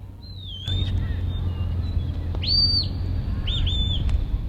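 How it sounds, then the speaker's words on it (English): A sheepdog handler's whistle commands ring out over an open field while the dog circles sheep far out. A few sharp rising and falling tones are heard, some paired, over low background rumble. "You're going to hear some whistles here shortly."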